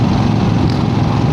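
Loud, close 1975 Harley-Davidson XLCH Ironhead engine running steadily, a dense, rough mechanical drone with a constant throb throughout.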